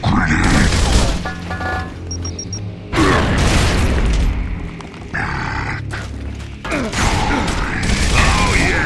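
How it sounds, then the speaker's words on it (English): A grenade goes off in Gears of War during heavy combat, with several loud booming blasts, clanking mechanical noises and grunts, and a voice calling out among them. "Grenade."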